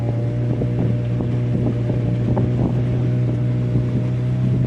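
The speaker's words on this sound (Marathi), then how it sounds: "आपली बोट आता चालू झालं आहे आणि थेट चालले जात आपलं डीप सी मध्ये फिशिंगला" A fishing boat's engine runs out at sea off Malvan on the way to deep-sea trolling, a steady loud low drone with a constant hum, mixed with wind rumble on the microphone and no pauses.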